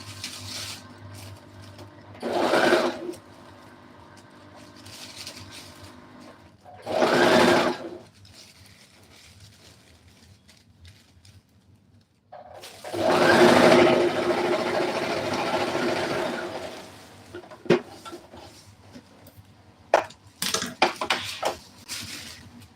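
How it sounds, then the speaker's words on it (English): A sewing machine stitches the seams of a panel dress with godets, running in several separate bursts of whirring, some short and some longer, with quiet pauses between them, close and clear with no talking. "So this time I've tried to sew it at once without removing."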